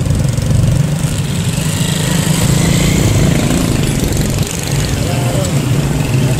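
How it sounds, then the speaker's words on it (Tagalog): A motorcycle engine runs steadily while riding under overcast, drizzly skies in Bangued, a continuous loud low drone with a brief dip near the end, with a voice talking over it. "Naka-rides tayo ng motor."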